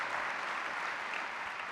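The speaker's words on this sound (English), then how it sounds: "Give him a round of applause." An audience at a keynote event applauds in a steady, dense burst of clapping that stays at an even level for the whole moment, with no voices standing out.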